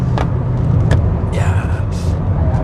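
A Hyundai Sonata Hybrid speeds up, brakes and turns at speed, with a loud steady road and cabin rumble broken by brief higher swishes and hisses from inside the car.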